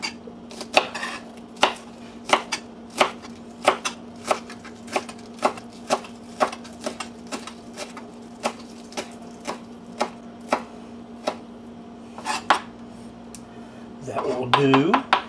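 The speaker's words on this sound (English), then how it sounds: "Just a coarse chop." A knife coarsely chops vegetables on a cutting board, sharp regular knocks spaced about every half second, close and clear, over a faint steady hum, ending with a brief rustle.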